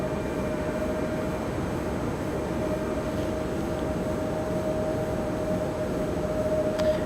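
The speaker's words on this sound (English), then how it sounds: "this is American Airlines 2660 coming in from Dallas, Fort Worth. Another 737-800" American Airlines Boeing 737-800 arriving at Raleigh-Durham International from Dallas Fort Worth, a continuous distant jet roar with a steady whine, heard from the ground.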